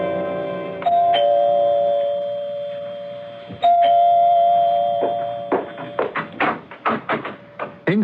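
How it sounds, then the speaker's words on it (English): A doorbell rings out clearly in an old-time radio mystery drama, sounding two sustained chimes a few seconds apart, followed by a burst of sharp knocking taps near the end, with no voices over it. "You can ring the doorbell."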